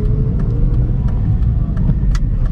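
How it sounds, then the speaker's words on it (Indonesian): A manual car's engine rumbles and rises gently as the driver eases off the clutch and pulls away from a traffic light, steady low drone up close with no talk. "injak gas pelan sambil lepas kopling"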